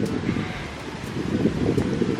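Strong wind gusting outdoors on a stormy day, a steady broad roar and buffeting against the microphone with rustling swells, heard alone for about two seconds.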